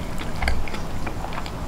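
Close-up bites and chewing on a big piece of crunchy fried chicken thigh, local Hawaiian drive-inn style, giving soft crackly crunches and mouth sounds at low volume with no talking.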